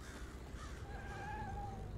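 A crow-like bird caws in the video game Hello Neighbor 2, a drawn-out faint call over a low steady background hum, with no voices.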